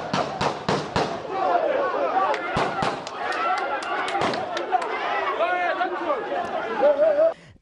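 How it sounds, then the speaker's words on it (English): Several sharp gunshots ring out near a compound, a quick cluster of loud cracks early on followed by more scattered bangs, over a background of excited crowd chatter and shouting voices. "Gunshots were fired."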